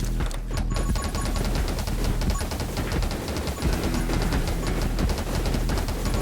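A shotgun blasts repeatedly in the survival shooter 10 Minutes Till Dawn, a rapid, continuous stream of close, loud shots layered over game music with no pause.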